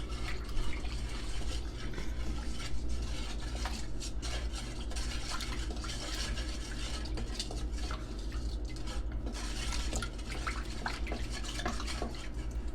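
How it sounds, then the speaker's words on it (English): Homemade bread dough ingredients, sugar and salt among them, mixed in a bowl, a continuous close scraping and stirring with small clinks over a low steady hum. "Okay, we're gonna mix."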